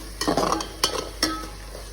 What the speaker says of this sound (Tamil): நல்லா ஹை ஃப்ளேமில் வச்சு ஃப்ரை பண்ணுங்கள்.